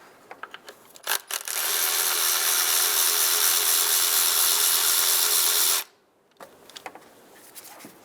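A power tool, likely a ratchet or driver, spins out a 5/16 bolt holding the ignition coil on a 2007-2015 Mazda CX-9: a loud, steady whir of about four and a half seconds with a few clicks before and after.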